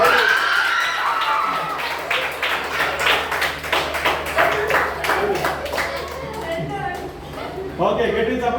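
Loud audience clapping at a children's gathering, a dense burst of many hands that swells, thins briefly, then picks up again, with voices and shouts mixed through it.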